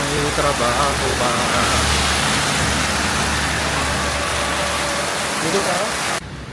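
Steady rain pours outdoors on a street in Kuta, Bali, a dense continuous hiss with a low rumble that sounds like passing traffic underneath, cutting off sharply near the end.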